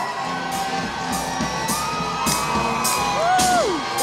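A street crowd whoops and cheers along a Mardi Gras parade route in Mobile as the Mystics of Time procession passes, steady festive roar with shrill whistles and shouts rising throughout.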